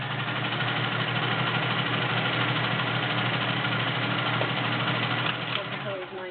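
Kenmore convertible 385.1249 sewing machine stitching quilt tops, a steady close mechanical hum and whir running continuously throughout.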